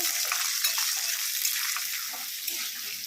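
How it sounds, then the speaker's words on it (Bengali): Raw chickpeas fried and stirred in a pan with slit green chillies for a vegetarian taro-stalk curry, giving a steady, close hiss of frying with faint scraping from stirring, and no voices. "একটু নেড়ে চেড়ে ভেজে নেব"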